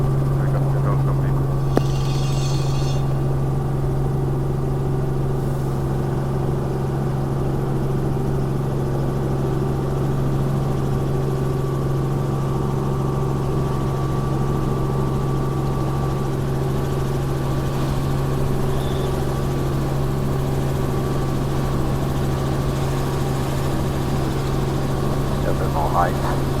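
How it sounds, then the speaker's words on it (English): A Robinson R44 helicopter climbs out from Denham airfield, its engine and rotor forming a steady, loud tonal drone that holds unbroken throughout, with faint radio chatter in the background. "Helicopters climbing up from the westerly runway at Denham airfield."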